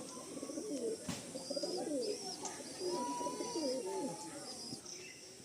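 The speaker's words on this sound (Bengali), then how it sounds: "লাল দম পায়রা আমাদের প্রত্যেকের খুব শখের পায়রা। আসুন ছেড়ে দেখাই।" Red-tailed pigeons at a loft give repeated soft, rolling coos, with a few brief chirps over a steady background hum; the calls overlap in a loose, continuous rhythm at close range.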